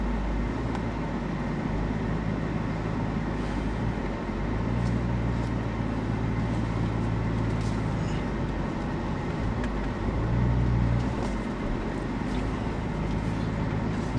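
A car drives along a road, heard from inside the cabin as a steady low rumble of engine and tyre noise with occasional swells, continuous and unbroken throughout.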